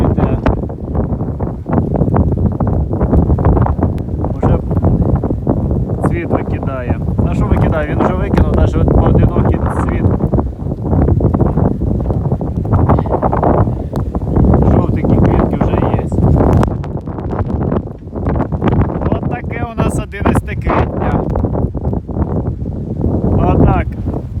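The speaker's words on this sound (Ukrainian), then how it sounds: "Вітер сильний до 11 метрів в секунду." Strong, gusty wind of up to 11 metres per second during a spring snowstorm roars steadily into the microphone outdoors, with someone talking over it throughout.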